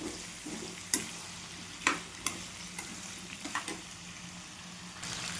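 Raw jackfruit pieces stir-fried in oil in a pan, with a soft continuous sizzle broken by a few sharp scraping stirs of a spatula, close by and without any talking.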